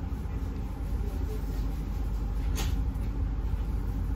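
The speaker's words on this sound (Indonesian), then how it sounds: "Jadi ini kereta dari Jakarta ke Jogja, berhenti di Cirebon, kemudian berhenti lagi di Purwokerto, baru Jogja." Passenger train from Jakarta to Jogja pulling out of Purwokerto station, a steady low rumble and rolling drone inside the carriage with one brief bright clank partway through.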